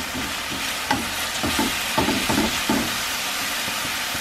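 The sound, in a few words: callaloo leaves frying in a pot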